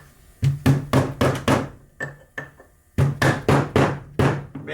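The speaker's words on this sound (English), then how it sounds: "Now I have a little brass punch that I use along with my hammer." A hammer strikes a small brass punch on metal work, a series of sharp, ringing taps in quick bursts: about five blows, a couple of lighter ones, then another run of five or so, close and clear.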